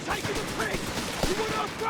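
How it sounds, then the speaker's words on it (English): Artillery and rifle fire in the World War II strategy game Company of Heroes 3, a dense rattle of overlapping shots and thuds with a sharper blast midway, mixed with battle noise and a voice speaking over it. "Artillery."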